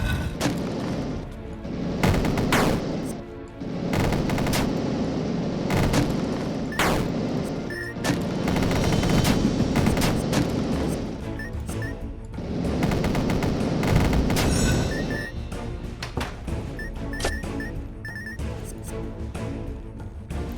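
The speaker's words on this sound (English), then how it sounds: "I wonder if Lasley reflects flamethrower shots." Flamethrower fire in the video game Dungreed during a boss fight, dense bursts of crackling, booming gunfire-like blasts that roll almost continuously and loudly, with brief lulls.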